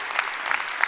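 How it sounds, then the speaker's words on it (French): An audience at a New Year's greetings ceremony claps in a brief, dense burst of applause. "on peut les applaudir, on peut tous les applaudir."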